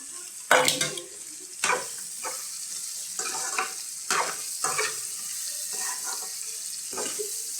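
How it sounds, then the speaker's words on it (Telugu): Drumsticks fry in a hot pan for a curry as a spoon stirs them: a steady close sizzle broken by repeated scraping stirs, with no one talking. "ములక్కాయలు అనేవి కూడా దోరగా ఫ్రై అయిపోయినాయి"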